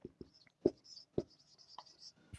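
Marker or chalk writing on a classroom board during an English grammar lesson, a few distinct scratchy strokes and taps in a quiet room, fairly close.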